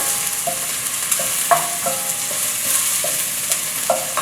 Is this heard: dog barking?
no